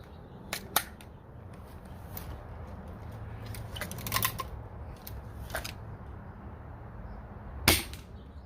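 A Sabre ApexPrime blaster fires dragon darts in a handful of sharp, separate shots spread unevenly over several seconds, with the loudest crack near the end and a low, steady background between them.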